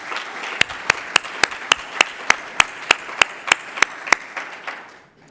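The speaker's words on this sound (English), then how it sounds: "let's give them a big round of applause as well" Audience applause at a Jewish Federation of Greater Washington Cornerstone gala, a steady bed of clapping with a series of sharp, evenly spaced louder claps punctuating it, fading out near the end.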